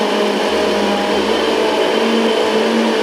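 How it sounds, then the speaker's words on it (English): A kitchen blender whirs loudly and steadily while preparing a Ghanaian yam and kontomire dish, its motor tone holding constant with a slight shift in pitch partway through. "This blender is so good that I'm tempted the next time"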